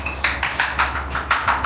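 Ceramic tile being tapped to find a hollow spot in a new-build apartment: a quick series of about eight light, hollow knocks, close and clear, with no speech.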